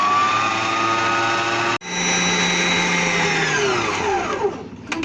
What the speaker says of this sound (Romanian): Vom bate un pic frișca, nu foarte mult, o să vedeți cât o batem.